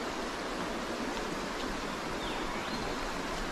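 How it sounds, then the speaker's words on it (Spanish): A river flowing past a cave in the jungle near Tingo María, Peru, gives a steady broadband rush of water that holds evenly throughout, with no voices over it. "Ahí encontramos un río. Este se llama el río de la cueva."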